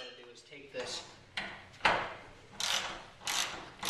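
Removal of an old roller from a garage door bottom, giving a series of short mechanical clunks, scrapes and metallic knocks spaced irregularly, fairly close.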